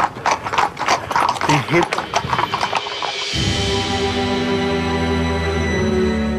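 A horse ridden by a pilgrim on the Camino clip-clops in a steady rhythm under a man's speech. The hoofbeats then give way to a sustained tonal background.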